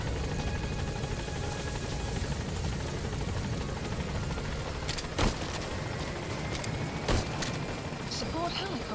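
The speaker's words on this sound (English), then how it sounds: "Support helicopter has arrived." Support helicopter arriving in the video game Metal Gear Solid 5: The Phantom Pain, a steady rotor drone with broad wash and a couple of thumping hits, continuous and close throughout.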